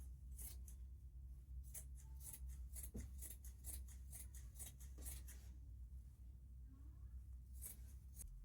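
Scissors cut through fabric for an agbada kimono, a quick series of crisp snipping strokes close by, pausing briefly before a few final cuts in a quiet room.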